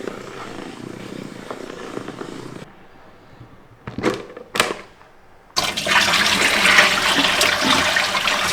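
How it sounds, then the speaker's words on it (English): Water swishes and churns loudly in a spinning basket, with a quieter stretch of brief rattling bursts before the rushing resumes at full strength. "fill your spinner with water and then rotate with water in it."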